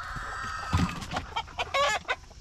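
Sitting hens on a homestead cluck in a few short, close bursts, with quiet pauses between the calls.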